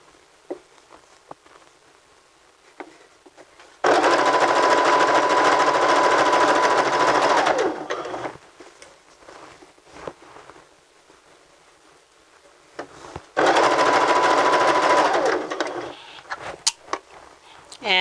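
A sewing machine runs zigzag and back stitches on fabric in two steady, loud bursts, each several seconds long. Quiet handling and fabric rustle fill the gaps between them.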